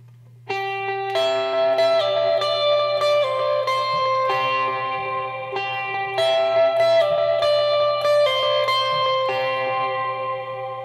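An electric guitar plays the opening riff of a worship song, a flowing run of picked notes washed in delay and reverb effects, heard clearly and continuously with a steady low hum underneath.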